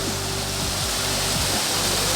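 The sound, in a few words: water flowing after night rain at a fort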